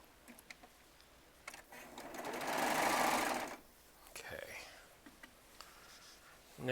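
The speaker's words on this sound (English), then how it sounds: "These 2 get sewn together." A Baby Lock serger stitching charm squares together, whirring in one loud burst of a second or two, with soft clicks and fabric handling around it.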